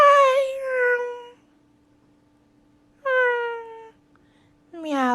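A cat meows three times, drawn-out and fairly loud, with long quiet pauses between calls over a faint steady hum.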